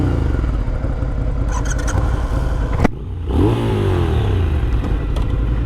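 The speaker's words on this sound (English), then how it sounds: "I think we will have to admit that the Scrambler sounds better just because I do have a pipe on it." A Ducati Scrambler motorcycle fitted with an aftermarket exhaust pipe growls loudly at close range, dips briefly, then revs up again with a rising engine note.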